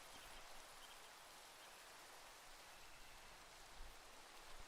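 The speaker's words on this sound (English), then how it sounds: "It starts to rain too." Steady rainfall in the Minecraft video game, a soft even hiss of falling rain that holds at a constant level throughout with no voices.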